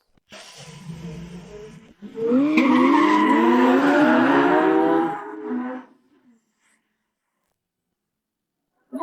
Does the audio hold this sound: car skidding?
yes